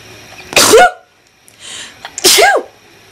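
Two loud sneezes about a second and a half apart, close to the mic, with a quieter breathy sound between them.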